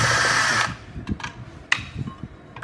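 A power screwdriver gun whirs loudly for a short burst while backing screws out of an amplifier, followed by quieter clicks and handling clatter.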